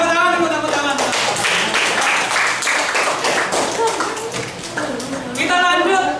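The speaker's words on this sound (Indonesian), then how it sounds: "Oke, ya tepuk tangan." Students in a classroom clap their hands, a dense burst of applause from a group, with voices talking and calling out over the clapping at the start and end.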